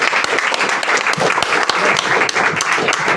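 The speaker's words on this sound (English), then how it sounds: "Round of applause for Andrew" A comedy audience bursts into brisk, close applause after a stand-up set, thick continuous clapping with sharp individual claps standing out and no talk over it.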